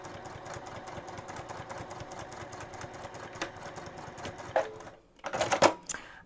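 A sewing machine stitches down a seam end to end on a boxy bag, a continuous close mechanical stitching rattle that cuts out near the end, followed by sharp clicks and handling noises as the back stitch and threads are dealt with.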